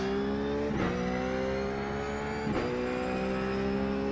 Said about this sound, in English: Keep throttle blipping